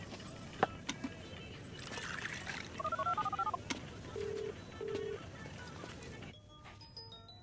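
Several short electronic keypad tones in quick succession, clear and close, followed by a few steady beeps, over a faint background hum.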